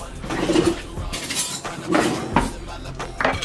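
A spoon clinks against a glass while a Caribou Lou cocktail topped with pineapple juice is stirred, producing a few bright, irregular taps over quiet background noise.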